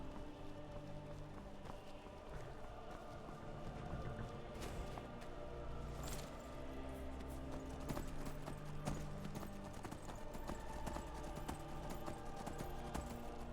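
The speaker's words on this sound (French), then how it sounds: "Un cheval." Horse hooves clip-clop steadily in the fantasy video game Skyrim, a continuous run of close, even hoofbeats at moderate loudness over a dense game soundscape, with no talking.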